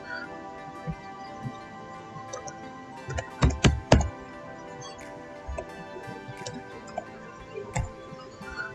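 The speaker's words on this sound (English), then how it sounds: "So I may type anything here." Close, sparse clicks of typing on a computer keyboard, with a brief cluster of louder key strikes in the middle, over a quiet background hum.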